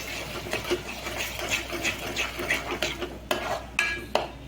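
Egg curry masala with tomato and cashew paste being stirred in a pan, a steady run of scraping, clinking spoon-on-metal strokes up close with a few sharper knocks near the end, no talking.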